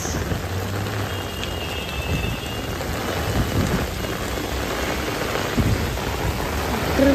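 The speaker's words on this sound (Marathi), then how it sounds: "क्रेझी पाऊस." Dense monsoon rain in Mumbai hisses without pause, with a low rumble of thunder swelling underneath at times; no voices are heard.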